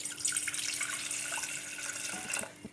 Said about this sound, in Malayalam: അതിലേക്ക് നമ്മൾക്ക് കുറച്ച് വെള്ളം ഒഴിച്ചു കൊടുക്കുക